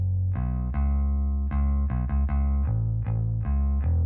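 Clean, undistorted electric-style bass line, loud and sustained with deep low notes changing every half second or so in a steady rhythmic pattern, playing alone without other instruments or voices.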